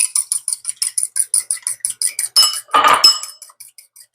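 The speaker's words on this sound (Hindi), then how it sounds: "इसे अच्छे से फेंट लेंगे" Eggs seasoned with salt, garlic powder and black pepper are whisked briskly in a bowl, a fast steady run of close metallic clinks followed by a louder scraping clatter near the end.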